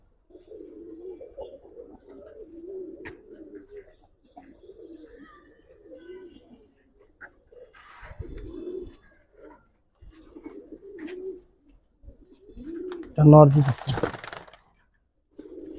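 Giribaz pigeons coo in low, repeated murmuring phrases through most of the stretch, with a louder burst of flapping or cracking near the end; a person talks intermittently in the background.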